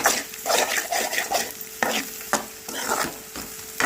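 Tomato, green chilli and onion stir-fried with salt in a pan, rhythmic scraping strokes of a spatula repeating roughly every half second over a bright, crackling sizzle.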